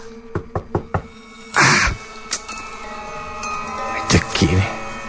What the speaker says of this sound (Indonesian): ada yang mengetuk pintu kamarku.